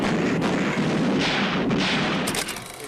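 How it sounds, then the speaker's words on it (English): Gunfire and grenade blasts from a war movie scene, a dense continuous roar of shots and booms at steady loudness that eases off near the end. "they're like getting shot at, and they're getting like there's grenades going off"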